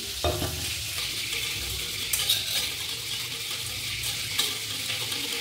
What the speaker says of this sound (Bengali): এই পিসকার দিয়ে এটাকে ভালো করে ফেটিয়ে নেব